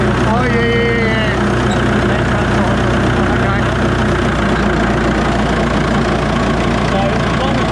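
A huge wood chipper's engine runs steadily at idle with a deep, constant rumble and a hydraulic hum, loud and close, with people talking over it.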